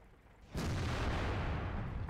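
After a brief lull, a WZ-120 tank's cannon fires in World of Tanks, a sudden heavy boom that rolls on as a loud, sustained rumble.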